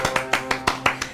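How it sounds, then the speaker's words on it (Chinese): Sharp, close handclaps for Arthur, about seven in a quick, steady rhythm, ring out with little else around them. "来各位为阿瑟鼓掌一下"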